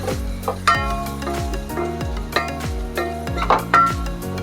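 Curry leaves go into a pan of softened frying onions and are stirred, giving a low sizzle under repeated scraping strokes of a spoon and a few sharp metallic clinks against the pan.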